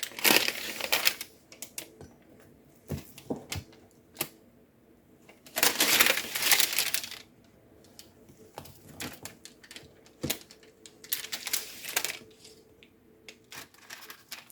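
Hardened Halloween fudge squares are cut with a knife, giving bursts of crunchy, cracking scrapes and sharp clicks at irregular intervals, with quieter gaps between the louder cutting strokes.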